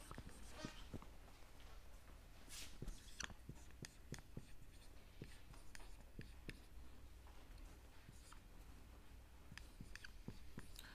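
Faint, quiet taps and scratches of writing on a board during a lecture, scattered irregularly over a low background hum while index notation is written out.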